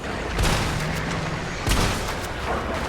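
Deep booms from video game grenade explosions roll out twice, each a heavy blast with a rumbling tail, set against continuous game noise.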